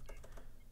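Typing on a computer keyboard while entering a date into a Google Sheets cell: three or four quick, close key clicks in a short burst, then a softer tail.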